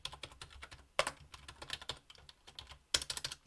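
Fast, uneven keystrokes on a computer keyboard typing to a terminal, close and crisp, with occasional heavier key hits standing out among the clatter and no voices.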